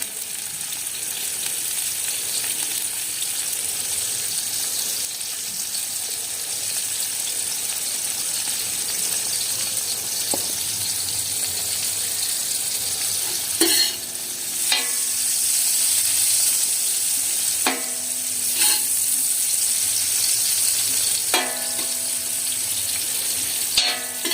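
Onions and salt frying on a flat iron griddle, a loud, constant close sizzle lasting throughout, with a few brief scraping stirs breaking in now and then and no voices.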